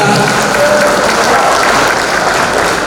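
Audience applause at a leadership training event in Baturaja, Indonesia: steady, loud clapping from a roomful of people, continuous and even from start to finish, with no one speaking over it.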